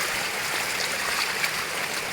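Floodwater rushing steadily through a street after knocking down a fence, a continuous loud broadband roar with no talking.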